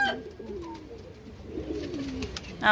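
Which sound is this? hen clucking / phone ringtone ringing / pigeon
pigeon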